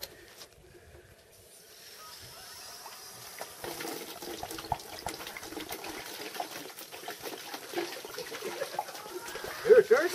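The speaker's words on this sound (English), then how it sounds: "She likes to drink it right out the spigot." A dog lapping water straight from an outdoor spigot, the running tap a steady hiss under wet slurping that grows louder toward the end, with a person talking over it.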